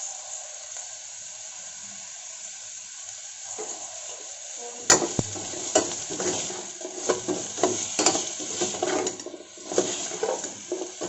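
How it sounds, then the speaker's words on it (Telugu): Cauliflower and carrot sizzle in a hot pan, quiet at first, then a sharp clatter as stirring begins, with a steady frying hiss under irregular scrapes and taps of the spoon. No one speaks. "బాగా వేయించుకోవాలి."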